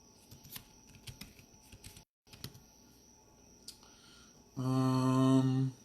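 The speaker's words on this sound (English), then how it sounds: "I'm gonna type in Atlanta, Georgia." Keys clatter on a computer keyboard in quick, irregular bursts, close and fairly soft, broken by a short pause. A loud, steady electronic hum or tone follows for about a second at the end.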